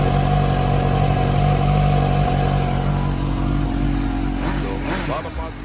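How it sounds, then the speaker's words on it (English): A Suzuki GSX-S750 motorcycle with a small aftermarket muffler runs steadily at close range, holding a low, buzzy idle with a slight dip near the end. "Sounds cute with that little muffler"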